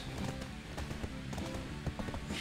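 Rapid rhythmic hoofbeats of a horse clip-clopping at a quick pace in Black Desert Online, steady and moderately loud, with faint background noise.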